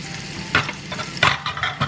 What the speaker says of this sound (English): I'm frying this with olive oil